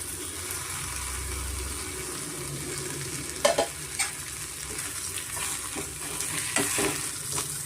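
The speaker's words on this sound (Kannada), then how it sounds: "ಇವಾಗ ಇದಕ್ಕೆ ನಾವು ಫ್ರೈ ಮಾಡಿರೋ ಬದನೆಕಾಯಿ ಸೇರಿಸೋಣ" Fried brinjal being stirred in a sizzling pan: a soft, steady frying hiss with a few spatula scrapes and knocks rising over it, fairly quiet and close, with no talking.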